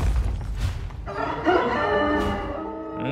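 A steel rooster in the video game Ecognomix crows one loud, drawn-out cock-a-doodle-doo, rising and then falling away, heard alone with no talk over it.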